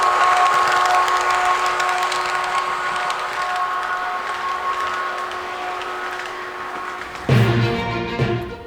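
Model ICE 3 high-speed train running noise, a sustained whining hum with a steady tonal line over rolling rumble, shifting abruptly near the end to a different, busier sound.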